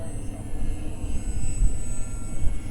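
A Volantex Saber 920 RC plane flying overhead gives a steady electric motor hum with a high whine, rising and falling slightly as it passes at moderate distance.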